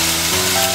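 A pot of food for Korean japchae bubbles and sizzles, a loud, dense, steady crackle up close during the brief moment heard.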